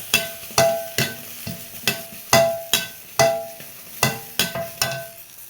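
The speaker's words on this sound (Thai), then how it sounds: "ใส่น้ำลงไปคั่ว ให้มันแห้งแล้ว หอมๆนะ คั่วจนกว่าจะแห้งนะ" Chilies, shallots and garlic for fermented fish chili paste are dry-roasted in a pan, heard as a close series of regular scraping and tapping strokes of a utensil against the pan, about two per second, with no talk.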